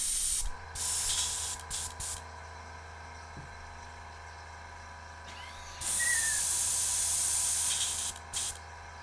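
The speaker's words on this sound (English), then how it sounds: "that is actually spraying water out" Water sprays out of a sprayer nozzle in strong hissing bursts, several short starts and stops and then a longer blast, over a steady low engine hum.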